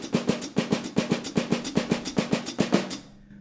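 Steady jazz swing pattern on a ride cymbal, with left-hand snare strokes played underneath, about fourteen even, close, crisp hits over three seconds before the kit stops and rings out, no talking.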